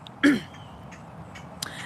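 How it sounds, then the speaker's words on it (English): One brief, sharp throat clearing close by, then near silence with a few faint small noises. "I wanted to clear my throat."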